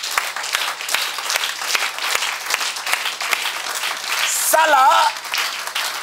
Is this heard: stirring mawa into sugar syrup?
no